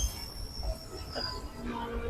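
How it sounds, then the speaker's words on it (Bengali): A freight train rolls along the number 3 line at Berhampore Court station, giving a faint, steady low rumble with thin metallic tones drifting above it. "দেখতে পাচ্ছেন এই লাইন দিয়ে মালগাড়ি এগিয়ে যাচ্ছে।"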